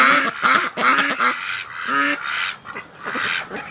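Pekin ducks quack loudly and close by at a backyard pool, a run of raspy, rapid calls bunched in bursts with brief pauses between them.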